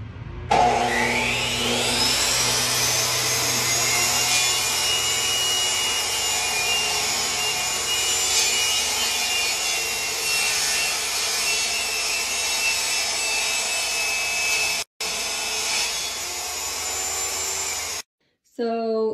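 Power saw cutting through an old piece of plywood, a steady continuous whine with a rough, rasping buzz that runs for about seventeen seconds with a brief break near the end, close and loud.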